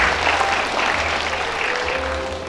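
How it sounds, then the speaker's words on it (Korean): Warm, dense applause from an audience at a joint WT-ITF taekwondo demonstration in Seoul City Hall, a steady wash of many hands clapping at once, loud and continuous with a low hum beneath. "따뜻하고 큰 박수로 환영해 주시기 바랍니다."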